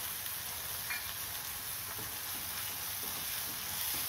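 Curry leaves sizzle in hot oil with a quiet, steady crackle and light stirring. No one talks.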